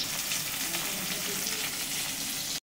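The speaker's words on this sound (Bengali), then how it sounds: "এই তেলেই মা চিংড়িটা ভেজে নিচ্ছে।" Prawns frying in hot oil left over from frying pointed gourd in a home kitchen, a steady bright sizzle that runs unbroken and fairly quiet, then cuts off abruptly.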